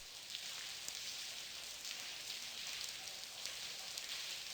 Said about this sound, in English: Man, I hate the rain.